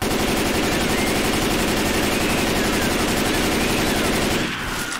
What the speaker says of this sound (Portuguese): Atira, atira nela, pelo amor de Deus.